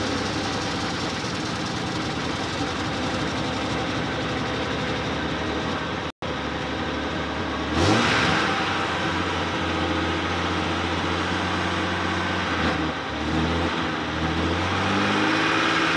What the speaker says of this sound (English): Now, I'm gonna give her a little bit of gas.